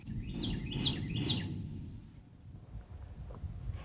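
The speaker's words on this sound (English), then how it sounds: "Hear the birds hollering." A bird gives three quick, bright chirping calls in a row, fairly faint, over a soft rumble of wind and outdoor ambience by North Carolina's Neuse River.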